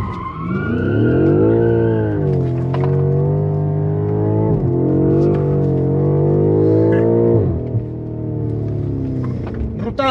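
A BMW M5 F90 screeches through a long tire-squealing skid while its engine revs hard, the loud, sustained squeal wavering in pitch over roughly ten seconds close to the listener.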